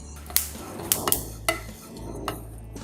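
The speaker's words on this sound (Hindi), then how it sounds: "बहुत ही जल्दी ये काजू बादाम भून जाएंगे" Cashews and almonds being roasted in a pan for panchmeva laddu. Several sharp clinks and knocks of a spoon against the metal pan, spaced irregularly over a low steady hum, close and with no talk.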